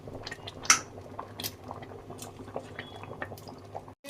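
Pot of khichuri bubbling on the stove as chopped cauliflower goes in, with soft liquid burbling, a sharp clink of utensil against the pot and scattered drips and knocks, ending in a brief hush.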